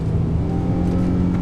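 Infiniti G35 engine revving in second gear in manual mode, a steady close-up drone of engine and road noise with a low hum running unbroken throughout.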